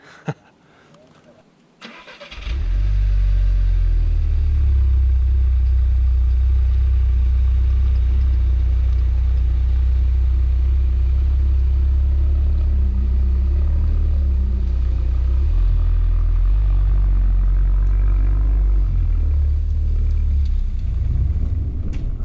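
A Volkswagen Scirocco R, fitted with new wheels and wide tyres, starts up and drives along a road, its engine a loud, steady low rumble that holds close and continuous throughout.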